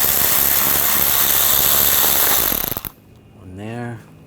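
A 10mm socket ratchet works nuts loose from the engine splash shield of a 2014-2020 Nissan Rogue, giving a loud, dense mechanical whirr that ends in quick clicks before a short burst of talking.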